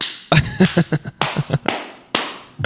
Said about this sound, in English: I needed the clap real quick